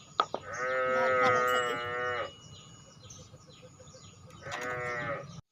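Buffaloes moo loudly nearby on a farm: one long drawn-out low call, a pause with faint background noise, then a second shorter moo.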